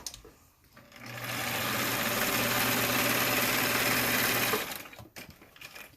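A sewing machine stitches the seam of a fabric face mask, running loud and steady for nearly four seconds before stopping, with no voices.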